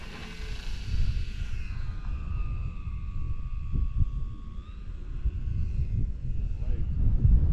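A radio-controlled model airplane flies a slow downwind leg during buddy-box flight training, its thin engine whine sliding in pitch at a distance under wind noise and people talking.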